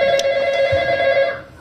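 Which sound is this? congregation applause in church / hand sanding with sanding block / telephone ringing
telephone ringing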